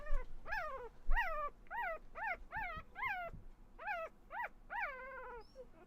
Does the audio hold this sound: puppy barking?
yes